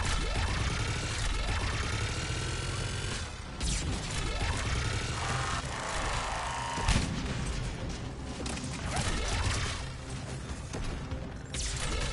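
Gunfire in Mass Effect 3 cracks in repeated loud shots and bursts with ringing metallic tails and crashes, close and dense throughout the combat.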